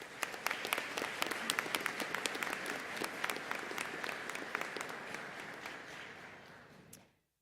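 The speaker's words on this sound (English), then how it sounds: "Let's give them all a round of applause." A commencement ceremony audience applauds steadily in a large hall, dense clapping holding for about seven seconds before fading out abruptly at the end.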